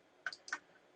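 A number is typed on a computer keyboard: a couple of quick, faint key clicks close together in a quiet room.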